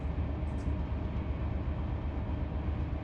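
A long, mostly empty freight manifest train in the Run 8 train simulator rolls along, giving a steady, loud low rumble with no break, alone and unchanging in level.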